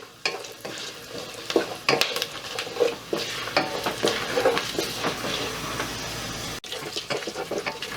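Cashews and kalpasi fry in oil in a pan for a green peas pulao, a close sizzle broken by spoon stirring and scraping clatter, with a brief water splash.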